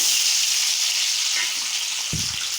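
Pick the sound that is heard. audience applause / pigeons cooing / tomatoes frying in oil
tomatoes frying in oil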